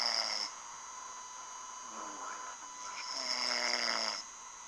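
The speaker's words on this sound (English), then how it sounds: "Who is this snoring right now?" A person snoring nearby, faint and steady, with a few slow rhythmic breaths over a constant electrical hum in a quiet room.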